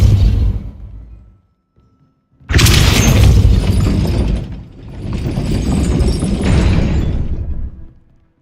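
A Depulso spell blasts twice in Hogwarts Legacy, each cast a loud, bursting whoosh with a heavy mechanical boom lasting about two seconds, after a softer rumbling effect and a short silence.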